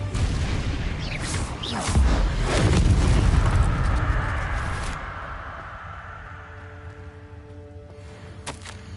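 A Confringo fire spell explodes in Hogwarts Legacy, a loud booming blast that swells and rumbles for a few seconds before fading into a lingering tonal hum.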